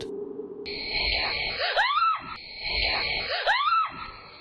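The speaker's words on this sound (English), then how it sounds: "is absolutely terrified and screams and hurries back inside" A woman screams in terror twice in a rising and falling wail. Each scream comes over a steady mid-pitched tone and a low rumble, loud and close.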